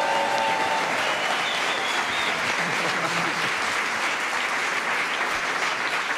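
A studio audience on a French television talk show set bursts into sustained, dense applause, many hands clapping steadily and loudly from start to finish as a performer is welcomed onto the stage.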